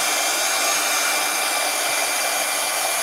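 A hair dryer blows continuously and loudly at close range, drying painted craft lettering with a steady, unbroken whoosh.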